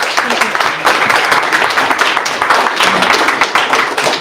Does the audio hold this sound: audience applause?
yes